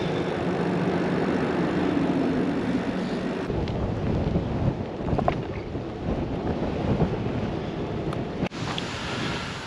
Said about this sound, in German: hier kann man sehen, dass es ein bisschen weht